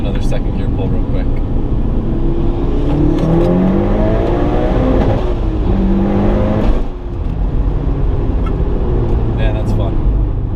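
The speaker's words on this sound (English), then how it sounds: "We'll do another second gear pull real quick." A turbocharged Mitsubishi Lancer Evolution V engine, about 400 horsepower, revs hard as it accelerates through second gear, rising whine and roar close up, with a brief dip near the end.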